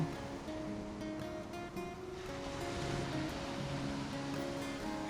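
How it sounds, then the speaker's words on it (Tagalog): Rough sea waves wash onto a shore as the wind shifts, a continuous broad surf hiss, faint and distant, with no voices. "medyo pumihit daw ang hangin kaya medyo lumaki ang alon"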